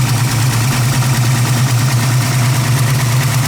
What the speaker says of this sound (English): The engine works like a clock. A dream. Beautiful. Running nice and smooth, no noises.